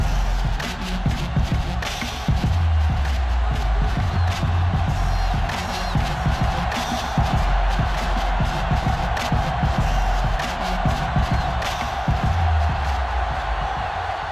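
Stadium crowd in the Madden 2005 football video game, a dense continuous roar of cheering and chatter at a steady loud level with scattered whoops.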